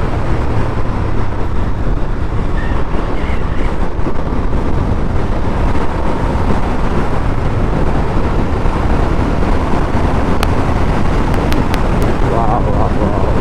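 Moto Guzzi California motorcycle riding at speed, a continuous broadband rush of wind buffeting and engine roar filling the whole stretch, loud and steady throughout.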